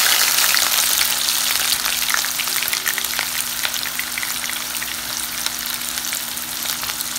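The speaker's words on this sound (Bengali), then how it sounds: "আমি পরিমাণ মতো তেল দিয়ে দিলাম, আমি পেঁয়াজ দিচ্ছি" Onions hit hot oil in a pan for a prawn and raw mango curry, a bright, dense, close sizzle that starts loud and settles into steady frying with occasional stirring, no voices.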